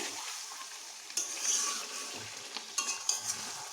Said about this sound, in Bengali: এটি বেশ তেল ছাড়তে শুরু করেছে আমি এটাকে বেশ ভালোভাবে কষাচ্ছি